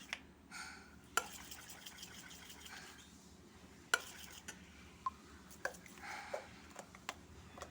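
Soft, wet squelching of risen appam batter being mixed by hand in a bowl, with occasional sharp clinks and taps of a vessel against a quiet background.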